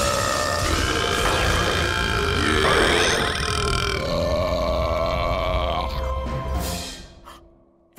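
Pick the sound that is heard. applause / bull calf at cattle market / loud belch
loud belch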